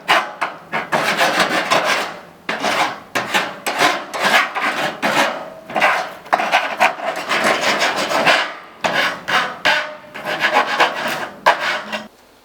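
A hand file rasps back and forth over freshly cut metal edges, deburring them in quick rhythmic strokes with brief pauses between bursts, loud and close with no talk.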